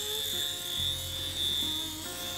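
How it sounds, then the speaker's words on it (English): A tattoo machine's needle buzzes in a steady, high-pitched whine with a low vibrating drone underneath, fairly close and continuous, with no talking. "So sounds really hard because vibration of the needle"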